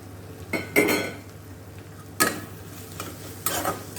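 Bhetki fish being stirred in a frying pan: a few distinct scraping, clinking strokes of a utensil against the pan, spaced apart, over a faint steady background hum.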